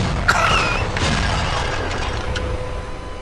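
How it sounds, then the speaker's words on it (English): Glass shattering and breaking sounds added over a comedic clip, with crunchy crashes and a sharp tinkle early on, then lower mechanical clatter and creaks continuing underneath through the rest. "like they're adding the sound of broken glass."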